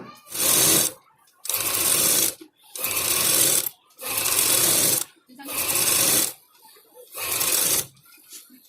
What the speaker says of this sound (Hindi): उसके बाद में हमें यहाँ पर दाब सिलाई करनी है